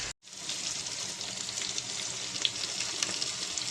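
Crab curry with turmeric and ginger bubbles and sizzles steadily in a pan, a constant close hiss after a brief gap at the start, with no talk.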